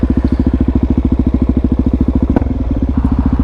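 A Suzuki DRZ400 motorcycle engine thumps steadily while riding, a loud, close single-cylinder pulse with even rapid firing throughout and a brief clatter partway through.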